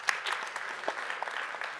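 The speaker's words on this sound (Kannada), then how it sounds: "ಒಂದು ದೊಡ್ಡ ಚಪ್ಪಾಳೆ ಬರ್ಲಿ," Audience clapping at a Kannada book-related gathering recalling Akashavani radio days in Mysore, a short burst of scattered applause at moderate distance, steady through the clip with no voices on top.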